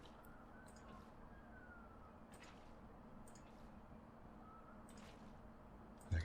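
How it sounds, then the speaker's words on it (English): Faint sirens wail far off, rising and falling beneath a steady wash of rain or city hiss, with no one speaking. "I can hear in the far off distance,"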